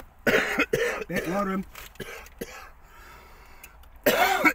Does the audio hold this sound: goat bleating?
no